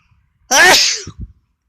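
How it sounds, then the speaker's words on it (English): A single loud, close sneeze with a sharp breathy burst, followed by a couple of brief low grunts. "This is the sneeze."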